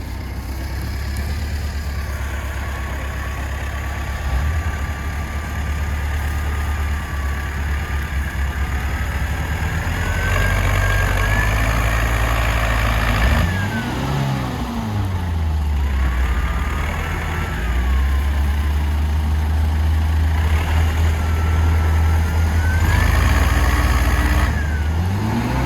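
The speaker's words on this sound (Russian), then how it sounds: "Друзья, посмотрите, как УАЗик застрял. Ничем мы его вытащить не смогли. Пришлось вызывать трактор." A tractor engine labours to pull a stuck UAZ vehicle free, a steady loud low drone with swells of revving and strain, no talk over it.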